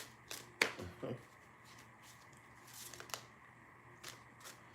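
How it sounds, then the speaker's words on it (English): Tarot cards shuffled by hand at an outdoor reading, giving a few short, crisp riffles and flicks over a quiet, faintly hissing background. "who am I shuffling these cards for?"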